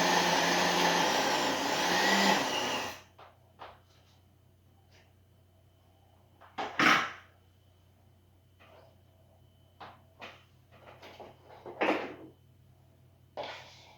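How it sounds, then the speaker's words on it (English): A blender blending cottage cheese whirs loudly for about three seconds, then its motor slows and cuts out, leaving near-silence broken by scattered soft clicks and knocks. "Now you can hear when the motor slows down"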